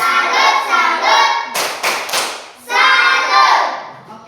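A class of schoolchildren claps together in the 'tepuk salut' routine, loud rhythmic bursts of hand claps with chanted voices before and after a sharp flurry of claps in the middle.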